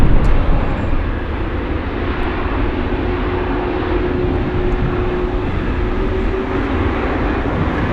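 Boeing 747 Dreamlifter cargo jet rolling along the runway at Anchorage, a loud, steady engine roar that holds a constant drone throughout.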